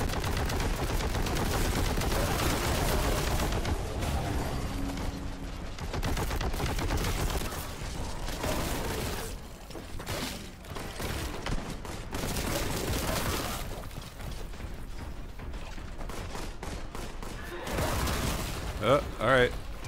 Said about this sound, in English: use the bolt gun against that guy.